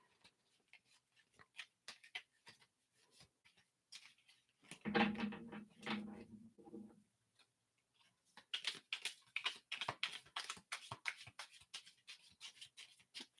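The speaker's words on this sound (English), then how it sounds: "So let me just shuffle these up." Cards are shuffled close by in quick, crisp flurries of ticking riffles, with a short rumbling pause midway before more rapid shuffling.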